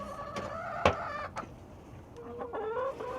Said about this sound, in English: Silly chicken.